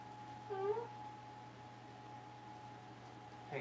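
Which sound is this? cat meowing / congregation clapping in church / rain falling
cat meowing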